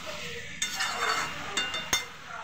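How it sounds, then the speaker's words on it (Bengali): Mixed vegetables cooking in a pan over five-spice seeds and green chilies, with soft sizzling beneath a few sharp clinks and scrapes of a utensil against the pan, quiet and close. "তো এখন করছি আমি এই 5 মিশালি সবজি। এটা ভালো করে কষছি।"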